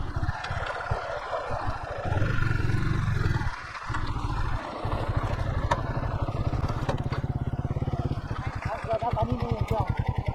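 A motorcycle engine chugs and revs unevenly as the bike crosses big stones at a water crossing. The close, pulsing putter is heard with clattering bumps, and voices speak over it.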